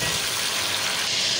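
Tomatoes frying down into a paste in a pan for chicken tandoori karahi give off a steady, loud, broadband sizzle that holds evenly throughout with no speech.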